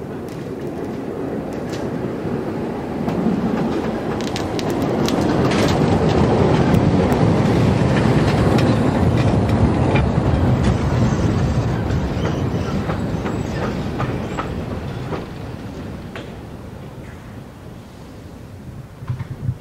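A steam train rumbles steadily at Putbus station, rising then easing off, with broadband mechanical noise and occasional clicks.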